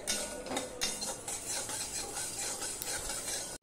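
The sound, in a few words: stirring mustard seeds in a hot wok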